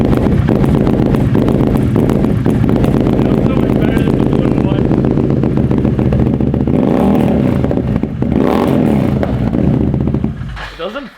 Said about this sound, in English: fresh start on the new exhaust.